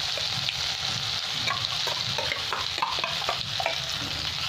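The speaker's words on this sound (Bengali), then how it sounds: "এখানে মটর বাটাটা আমি দিয়ে দিলাম তেলের মধ্যে, তাহলে কাঁচা গন্ধটা চলে যাবে" Ground pea paste sizzles and crackles in hot oil with salt and turmeric, a steady close frying hiss broken by scraping stirs in the pan, no voices.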